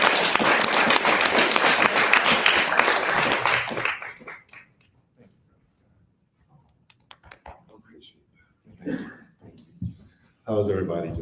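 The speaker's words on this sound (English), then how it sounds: "Can we give a big round of applause for him as he comes up to the stage?" Audience applause for a speaker coming up to the stage, with dense clapping that fills the room for about four seconds before fading into near silence, followed by a few scattered sounds and a voice starting to speak.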